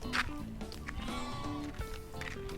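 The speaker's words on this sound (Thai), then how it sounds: "รู้สึกเหมือนจะได้ยินเสียงแพะด้วยอะ" Several goats bleat in quick succession at a farm cafe, overlapping wavering cries close by, with a busy outdoor background beneath them.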